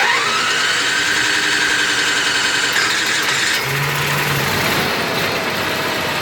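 A Class A motorhome's onboard generator cranks and catches, then settles into a steady mid-pitched engine drone that runs on loudly and close, with no talking.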